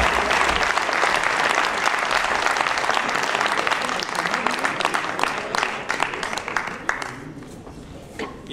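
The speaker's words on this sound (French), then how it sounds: "Applaudissements, s'il vous plaît," A school awards-ceremony audience at a lycée applauds a student with dense, steady clapping that fades slightly toward the end.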